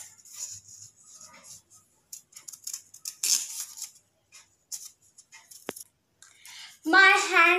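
Scissors snip paper for a toddler's butterfly craft in a few short, sparse cuts, with light handling noises in between and a brief voice near the end.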